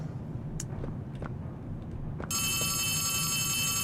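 A telephone rings in Poppy Playtime Chapter 4, a bright electronic trill that starts partway through and sustains loudly to the end, following a few faint clicks and footsteps against a low ambient hum.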